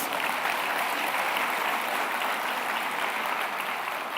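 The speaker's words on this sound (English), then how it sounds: "Please give yourselves a round of applause." A conference hall audience at a closing ceremony breaks into a round of applause, dense steady clapping that stays loud and even from start to finish with no voices on top.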